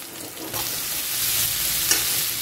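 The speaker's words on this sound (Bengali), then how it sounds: "পেঁয়াজটা ভাজা হয়ে গেছে আমি এর উপরে দিয়ে দিচ্ছি।" Prawns with fried onions fry in a pan, giving a close, steady sizzle that swells after a stir partway through, with a brief scrape near the end and no voices.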